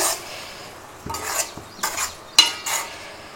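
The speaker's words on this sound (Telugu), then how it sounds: "ఈ మసాలా అంతా పచ్చి వాసన పోయేంత వరకు కలుపుకుంటూ లో టు మీడియం ఫ్లేమ్లో ఫ్రై చేసుకోండి." Egg masala curry paste stirred and fried in a pan over a low to medium flame, with a soft sizzle under repeated scraping strokes of a spoon against the pan, several distinct stirs close up.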